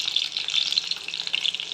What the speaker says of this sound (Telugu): పాన్ వేడయ్యాక ఆయిల్ వేసి తాలింపు గింజలు, తెల్ల నువ్వులు, సిసమ్ సీడ్స్ అంటారు, ఎండుమిర్చి, కరివేపాకు యాడ్ చేస్తున్నాం.